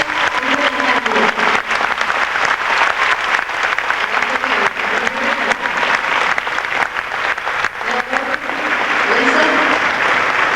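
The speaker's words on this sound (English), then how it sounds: "I'd like for you to give a big round of applause" A concert audience at a 1994 fan fest gives sustained, loud applause with dense clapping and some cheering voices, continuing steadily from start to finish.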